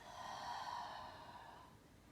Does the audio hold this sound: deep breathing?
yes